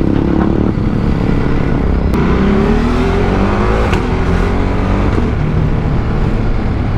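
A Ducati Multistrada V2 motorcycle engine drones loudly and steadily while riding, with rising revs and brief dips and pops as gears shift.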